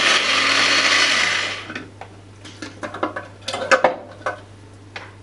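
Blender chopping quartered onion for a nut roast, a loud whirring burst lasting over a second before cutting off, followed by clattering taps and knocks of the jar and utensils.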